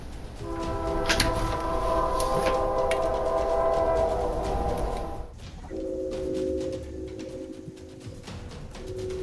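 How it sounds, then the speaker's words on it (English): Train passing late at night on nearby tracks, a steady rumble of rolling cars with sustained horn-like tones, briefly dropping then continuing at a lower pitch, fairly close and without talking. "this late night train is heard in all of his videos"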